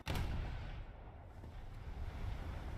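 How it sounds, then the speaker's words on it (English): A ship's ammunition explodes during a naval battle in the War Thunder video game: a sharp blast opens, followed by a faint, rolling, wind-like rumble that fades and swells. "Ammo explosion."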